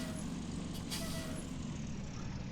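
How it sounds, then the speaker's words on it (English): Air brakes on a large stopped road vehicle in a driving game release with a brief hiss over a steady low engine idle rumble, the release sitting quietly in the mix without speech. "still love that little air brakes sound of the brakes"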